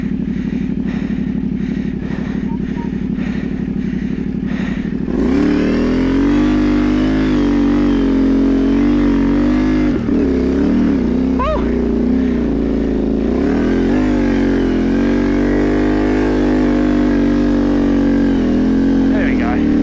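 A motorcycle in off-road mode and first gear idles, then pulls away loudly, the engine rising and wavering through several revving surges close to the microphone.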